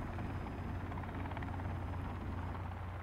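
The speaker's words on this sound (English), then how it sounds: "There's a chopper!" Helicopter flying in the video game Sons of the Forest, a constant low rotor thrum with dense broadband noise, steady and unbroken throughout, no speech.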